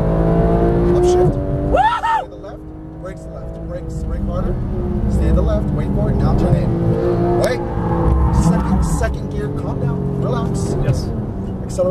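Porsche 911 GT3 (991) accelerating on a Las Vegas race track, its engine loud and continuous throughout with a brief dip then rising again, while an instructor talks over it.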